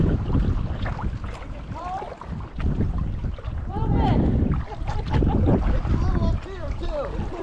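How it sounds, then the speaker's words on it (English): Wind gusting across a microphone while kayaking on a river, a steady low buffeting rumble that swells and eases throughout, with people talking faintly underneath. "The wind really cuts through you"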